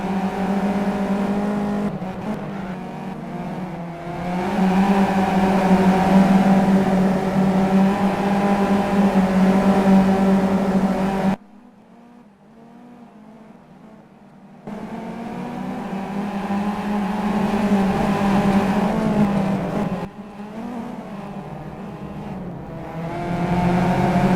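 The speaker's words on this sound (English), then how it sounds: "just take a moment to listen to the engines, the onboards, and see how aggressive they sound" Race car engines roar aggressively in a sim-racing championship round, heard as onboard sound with sustained high revving, a brief drop to near quiet midway, then the engine note climbs back and surges again.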